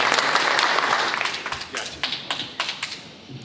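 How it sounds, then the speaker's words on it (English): A small crowd at a Dobyns-Bennett high school signing day gives a round of applause for an athlete heading to Middle Tennessee State University, with scattered claps and taps tapering into separate sharp claps. "got to get a round of applause for Zane Whitson heading to Middle Tennessee State University"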